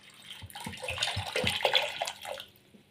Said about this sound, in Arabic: عندنا العسل كنزيدو عليه هاد لتر ديال الماء